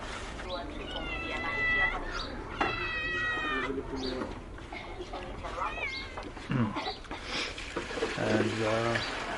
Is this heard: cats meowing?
yes